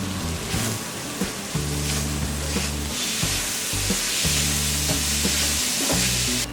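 Jaggery melting in a pan while being stirred, giving a dense close sizzle with repeated scraping stir strokes and a steady low hum underneath; no one speaks.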